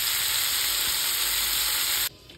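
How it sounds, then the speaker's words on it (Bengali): Crabs fry lightly in turmeric-coated oil for a Bengali crab curry, giving a steady, close, dense sizzle that holds evenly for about two seconds and then cuts off abruptly into quiet. "এবার কাঁকড়াগুলো হালকা করে ভেজে নেব, খুব একটা ভাজবো না,"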